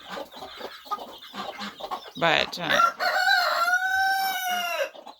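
Ameraucana chickens on a farm cluck in short bursts, then a rooster lets out a loud, drawn-out crow that lasts nearly two seconds. A voice speaks briefly at the start.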